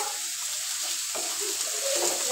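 Spice paste for fish curry frying in a pan, a steady bright sizzle that holds evenly for a couple of seconds and grows slightly louder at the end, with no voices.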